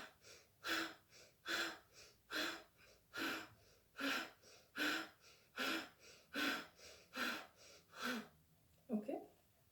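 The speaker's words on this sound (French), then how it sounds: "on gonfle, on expire comme un soufflet pour attiser le feu" Forceful bellows-style yoga breathing during a hatha yoga session, with about a dozen sharp, energetic nasal exhalations in a steady rhythm, close and clear, ending with a softer breath.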